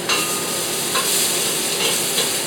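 Garlic sizzles and crackles in a hot pot for chi qua soup, a steady close frying hiss with a few brief stirring scrapes.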